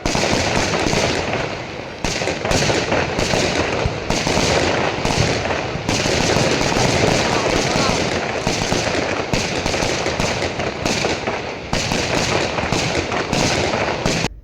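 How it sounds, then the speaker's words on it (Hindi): A long, dense barrage of firecrackers at a wedding procession pops and crackles continuously, loud and close, with brief gaps between rapid bursts and no clear talking. "इतने सारे पटाखे फट रहे थे, आप देखो कितना अच्छा लग रहा है"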